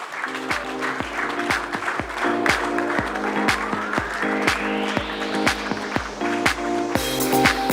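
An audience at a foundation day ceremony claps in steady rhythmic applause that carries through, with music or tones sounding alongside.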